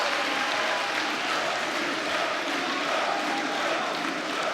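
A pro wrestling crowd roars and cheers as CMLL wrestlers dive to the outside of the ring, a dense, steady wall of cheering and applause that fills the arena.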